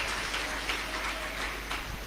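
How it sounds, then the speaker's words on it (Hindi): Crowd applause at a Shiv Mahapuran katha at Kubereshwar Dham welcoming the host family: a steady, dense wash of many hands clapping at once, continuous and even throughout, with no talk over it. "एक बार जजमान परिवार के लिए जोरदार ताली बजाकर स्वागत"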